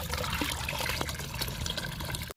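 Water rushes steadily into a 10-litre bucket for diluting liquid flower-plant fertilizer, a continuous close pouring splash that cuts off abruptly at the end.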